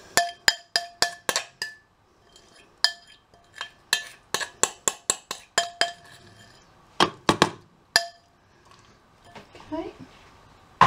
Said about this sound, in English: So all you need to do is just spoon this into the bottom of the jar.